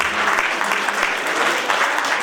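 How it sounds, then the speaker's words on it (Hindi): Audience applause at a university convocation ceremony in Uttarakhand, a dense, steady clapping from a large crowd filling the whole stretch at even loudness with no break. "धन्यवाद आप सबका तालियां बजाने के लिए"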